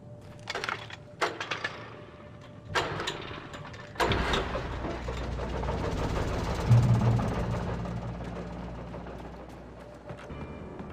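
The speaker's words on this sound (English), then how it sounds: "That's when I heard the chainsaw." A chainsaw engine in Alan Wake Remastered follows a few sharp knocks, then roars up into a loud, sustained drone that slowly fades toward the end.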